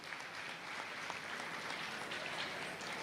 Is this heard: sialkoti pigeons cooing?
no